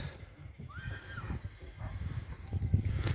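A draft horse lets out one clear whinny in an open pasture, with soft hoof clops and steady outdoor background noise throughout.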